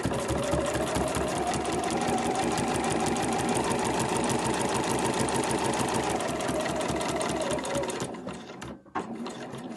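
A sewing machine stitching an overlocker cover panel runs in a fast, steady mechanical rattle for about eight seconds, close and loud, then slows and stops with a few clicks.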